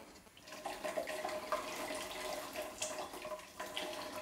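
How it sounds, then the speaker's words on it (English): Court bouillon vegetable stock is strained into another pot in a kitchen. Liquid pours and splashes steadily at a moderate level, close by, with no talking. "I'm gonna strain the court bouillon."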